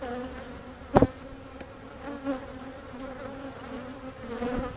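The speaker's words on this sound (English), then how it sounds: "Nice load of bees." Bees hum steadily from an opened hive during a split check, a low droning buzz that stays mostly even, with one sharp knock near the start and a small swell later.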